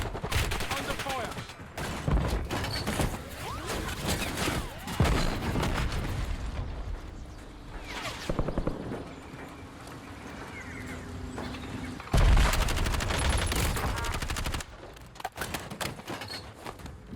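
Sustained automatic rifle fire from a Kilo 141 in the Warzone video game, loud and dense, with several bursts and brief gaps over continuous game noise.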